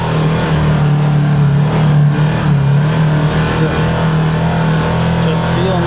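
A side-by-side off-road vehicle's engine drones steadily and loudly as it climbs Grandaddy Hill, with a constant low hum and some wind noise throughout, and a voice talking over it.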